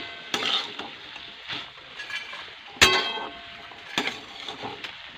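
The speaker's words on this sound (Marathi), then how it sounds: "ह्याला चांगलं परतून घ्यायचं परत." Bell pepper sautéing in a pan, with a steady soft sizzle and repeated stirring scrapes and light clinks of a utensil against the pan, close by.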